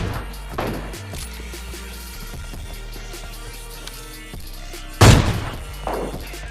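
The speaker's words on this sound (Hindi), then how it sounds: "अब देखो बस खाली AWM चलने वाली है इस मैच में" AWM sniper rifle shots in PUBG Mobile Lite gameplay: a sharp loud report near the end and a softer earlier one, set against a busy game soundscape with background music.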